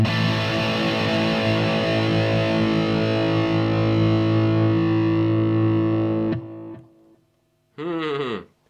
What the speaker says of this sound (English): Okay, so the DS-1, level and distortion on 3 o'clock.